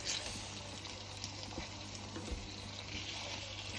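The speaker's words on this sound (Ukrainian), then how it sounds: "і так висмажуємо всі котлетки" Chicken and zucchini cutlets fry in a pan with a steady, soft sizzle and crackle, close and continuous with a low hum underneath.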